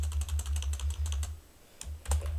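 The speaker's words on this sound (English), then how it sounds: "So I'm going to just type in" Quick bursts of keystrokes on a computer keyboard as a product search is typed in, a fairly close, steady clatter of clicks with a short pause near the end.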